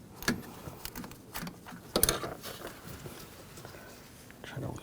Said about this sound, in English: You can use a ratchet wrench, just because it's pretty tight down there.